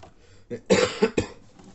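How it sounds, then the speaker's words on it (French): A single person coughs a few times in quick, close bursts, with a brief throat-clearing catch before them. "si je tousse pendant la vidéo, désolé"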